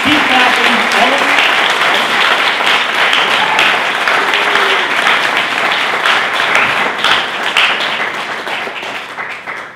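Audience clapping at a Startup Grind Buffalo event: loud, close, sustained applause from a crowd that fills the room, slowly thinning and softening toward the end, with faint voices mixed in.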